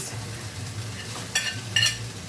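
Courgettes and aubergines fry in a pan for a turkey and Mediterranean vegetable pie, giving a steady low sizzle close by, broken by a couple of brief scraping stirs.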